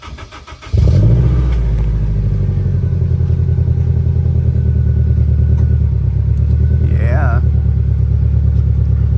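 A Honda S2000 with a Spoon Sports exhaust fires up and settles into a loud, steady rumble, with a brief rev and a few small crackling pops near the end; a voice speaks briefly.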